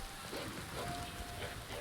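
Rain from a weather mod in a video game, a steady soft hiss of falling drops pattering on the ground, faint and even throughout with no voices.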